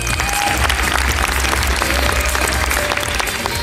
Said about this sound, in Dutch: Dames en heren, graag uw applaus voor Anne-Sophie Kari.